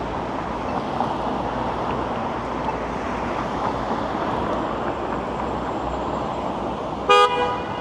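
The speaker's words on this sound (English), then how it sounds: "why are you honking at me?" A car horn gives one short, loud honk close by on a busy downtown Toronto residential street, at a pedestrian crossing the road, over steady traffic rumble and wind.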